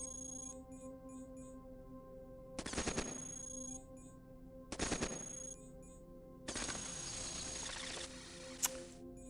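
An auto gun in the Cogmind robot roguelike fires in three separate loud bursts of rapid shots, with short blips and a steady hum between them and no speech.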